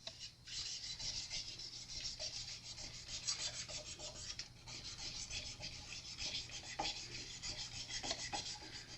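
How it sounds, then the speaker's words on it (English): Steady rubbing and rasping as tarnish is scrubbed off the metal frets of an Epiphone Casino guitar, close up and continuous, with no talking. "So you're not putting tarnish back on the fret you're trying to clean."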